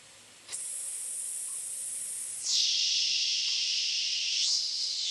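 A steady, forceful exhale of breath during a beginner deep-squat breathing drill, a sustained airy hiss that starts abruptly, then shifts to a slightly louder, lower-pitched push midway and continues without pause.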